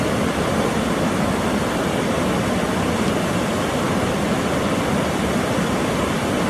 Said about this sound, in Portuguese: Essa aqui é a cachoeira da Prainha do Alceste, a visão por trás dela.